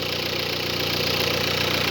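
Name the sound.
car engine knocking from injector at idle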